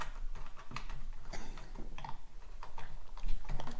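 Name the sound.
tightening the clamp of a motorcycle phone mount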